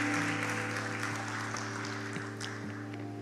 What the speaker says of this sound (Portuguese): Pode aplaudir o Senhor se você acredita